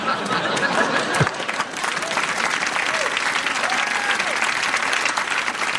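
A comedy show audience breaks into loud, sustained clapping with some laughter and chatter mixed in, the applause dense and close throughout.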